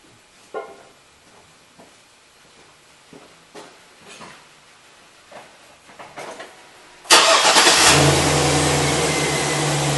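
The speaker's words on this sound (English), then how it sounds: "Then we're going to start the truck up momentarily, and we're going to check the oil levels." A 2013 Chevy Silverado truck engine cranks and fires after several seconds of quiet, scattered clicks and taps, then settles into a loud, steady idle close to the microphone.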